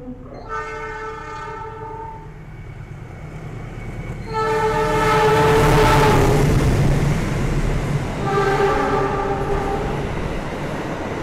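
The Gajahwong passenger train passes, sounding three long horn blasts of several seconds each as the rumble of wheels and carriages swells loud and close, then eases slightly.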